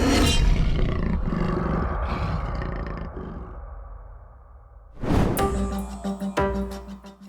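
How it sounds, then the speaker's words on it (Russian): A Bengal tiger roars loudly and close, one long rumbling roar that fades out, then a second sharp, powerful roar bursts in and rolls on, with no one speaking. "Встречайте, бенгальский тигр."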